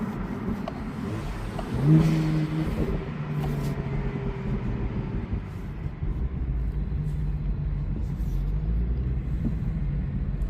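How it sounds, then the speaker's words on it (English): A 2013 BMW 335is with the N54 twin-turbo engine and DCT gearbox, heard from inside while driving: a steady low engine drone with one brief rising rev near the start, and no distinct exhaust pops standing out. "Put down the windows so we can hear some of those pops."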